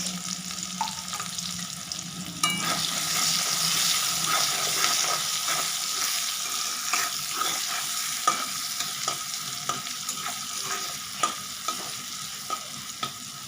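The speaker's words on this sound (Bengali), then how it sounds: "এবার আমি এর মধ্যে দিয়ে দিচ্ছি একটা বড় সাইজের কুচানো পেঁয়াজ" A large chopped onion hits hot oil in a pan with a sudden loud sizzle that settles into steady frying, punctuated by spatula taps and stirring scrapes, close up with no speech.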